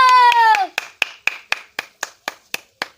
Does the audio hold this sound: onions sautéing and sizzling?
no